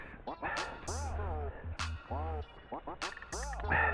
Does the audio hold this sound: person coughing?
no